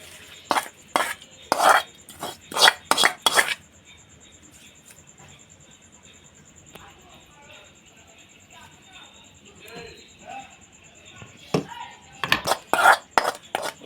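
Metal utensils clatter and clink in a pan while tempering (talimpu) is prepared for a chutney, sharp knocks coming in quick bursts at the start and again near the end, with quieter sizzling and handling between and a voice talking.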